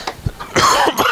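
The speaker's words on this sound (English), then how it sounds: "I'm sorry about all the coughing." Coughing in a workshop during a truck air-valve and air-dryer strip-down: a few short, close, harsh coughs and throat-clearing sounds in quick succession, loud and alone.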